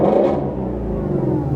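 A sports car engine revs with the exhaust in sport mode, a brief loud throaty rise and rumble heard close up, with no talking.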